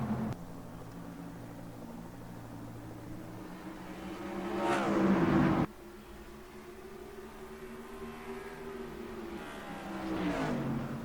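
Race cars drone at a green flag start at Rockingham in the NR2003 racing game, with a steady engine roar, a louder surge as cars pass close, then a sharp cut and another swell of engines.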